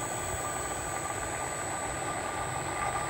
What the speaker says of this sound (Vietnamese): thì động cơ nó chạy lên 50 hạt này các bạn